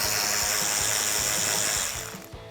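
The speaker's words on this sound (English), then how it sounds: "Next I'm going to use a 7mm socket to remove the 2 screws on the inside of the wheel liner." A 7mm socket wrench works the screws out of the inner wheel liner on a 2015-2017 Ford F-150, giving repeated low ratcheting clicks beneath a steady, loud broadband hiss that fades near the end.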